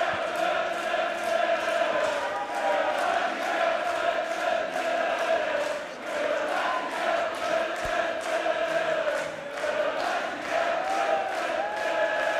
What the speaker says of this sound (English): As the crowd here are just going crazy.